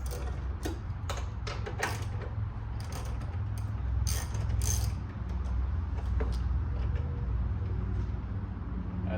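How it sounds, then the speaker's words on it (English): A 10mm ratchet clicks in short bursts as it backs out the intake box bolts on a BMW E90 328i, close by over a steady low hum of the surroundings. "We're gonna remove the 2 bolts holding the intake box"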